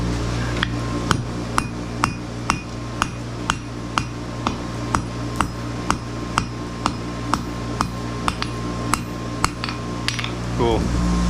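A blacksmith's hammer forges a branching scroll, striking the hot metal about twenty times in a steady, evenly spaced rhythm, each blow a close, sharp, ringing clang.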